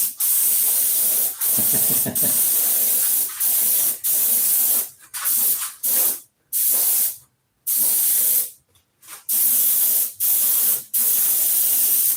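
Spray paint is applied in a coat from an aerosol can, loud hissing bursts of varied length, some short, some sustained, separated by brief silences, close up and with no talk.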